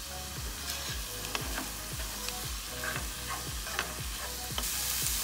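Harissa being stirred into a chicken dish mixture in a pan, with a steady sizzle of frying underneath and repeated scraping strokes of a spoon at a regular rhythm, close and moderately loud, no voices.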